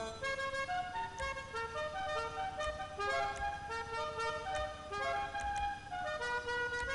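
A musical scooter horn in GTA V, fitted to a Pegassi Pizza Boy scooter during tuning, plays a bright melodic tune of stacked tones with steady rhythmic notes, continuous and loud throughout.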